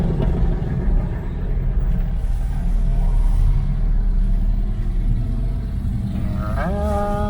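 An old car, a Ford Thunderbird, drives by with a loud, rough engine rumble that holds steady and then eases off as it passes, heard on a town street.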